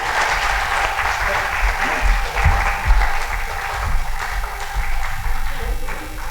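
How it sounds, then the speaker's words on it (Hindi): Continuous applause from an audience at a stage event during a spring festival, a steady wash of clapping with some low thumps and room hum beneath it. "और तालियों से भी अभिनंदन होते रहना चाहिए।"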